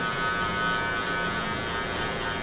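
Electric hair clippers buzz steadily and close by throughout, running nonstop during a high taper fade cut with the rake-down technique.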